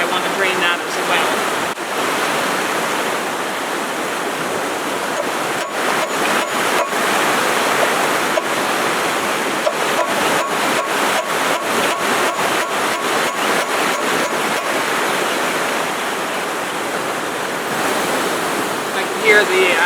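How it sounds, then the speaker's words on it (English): Water draining from a short section of pump hose at a tiny house, a steady rushing, splashing wash that runs for about twenty seconds with rhythmic pulses and faint wind. "So that's just draining this little piece of the hose."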